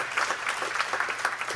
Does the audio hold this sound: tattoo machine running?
no